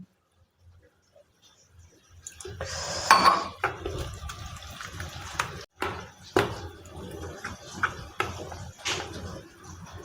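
Gram flour batter for moong and palak bajji is stirred in a bowl, with scattered clinks of a spoon against the dish, wet sloshing and intermittent knocks, close and fairly loud.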